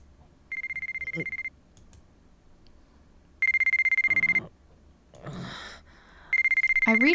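A cell phone ringtone in the visual novel White Album 2, a steady electronic tone ringing in three separate bursts of about a second each, clear and alone with brief quiet gaps and other short sounds in between.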